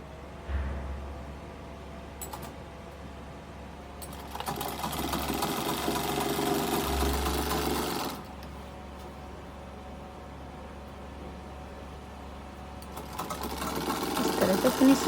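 A sewing machine stitches the pleats of a Rajasthani lehenga, running in steady mechanical bursts with pauses between them while a voice talks over the whirring.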